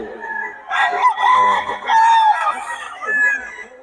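A young gamecock stag offered for sale crows close by in two long harmonic calls with a shorter crow near the end, loud and clear with no talk over it.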